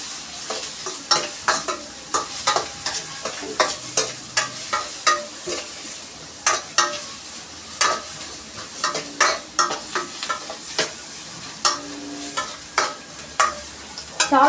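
Carrot stir-fries in a pan for a lunch-box fried rice, a close sizzle punctuated by a brisk, regular run of spatula scrapes and tosses throughout.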